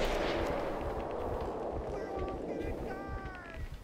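Bursts of gunfire from a video game as a player shoots at a sailor, sharp cracks spaced over a steady wash of loud background noise, with faint high tones near the end.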